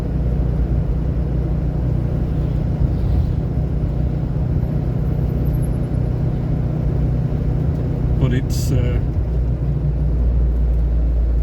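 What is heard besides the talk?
old car driving on the road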